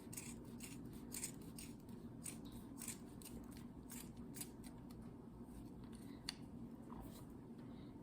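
Scissors trim yarn for a handmade yarn monster, giving a string of soft, faint snips and crisp clicks that repeat steadily at close range over a quiet background hiss.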